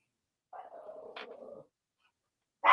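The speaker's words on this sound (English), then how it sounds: "He's just doing his job. That's what dogs do." A dog growls low and steadily for about a second, rising briefly into a rougher snarl, then goes quiet before a sudden loud burst cuts in at the end.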